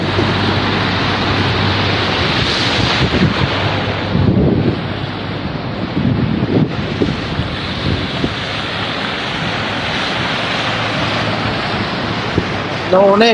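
Rushing floodwater flows continuously over a flooded road in Saudi Arabia, mixed with heavy wind buffeting the microphone, loud and close, with muffled voices faintly underneath.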